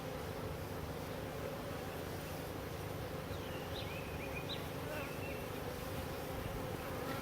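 Honey bees buzzing around a newly installed nuc hive in an urban backyard, a steady, dense outdoor hum of many wings with a few louder passes near the microphone.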